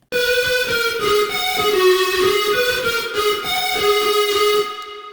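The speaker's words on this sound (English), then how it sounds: "We're adding some reverb to the end." A sustained synthesized tone with bright harmonics shifts between a few pitches, washed in reverb, then fades into a short echoing tail.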